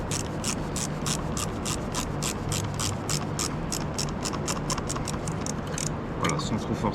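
A wrench rapidly ratchets while tightening the battery terminal on a Renault Twingo, producing a fast, even series of close clicks over a steady low hum.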